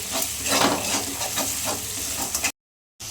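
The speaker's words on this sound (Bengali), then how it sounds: "কাশ্মীরি লঙ্কা গুঁড়া এগুলো এটা ভালো করে একটু কষে নিতে হবে" Masala with Kashmiri chili powder is stir-fried in a pan, loud rhythmic scrapes of the spatula over a bright sizzle, cut by a brief silent gap before resuming.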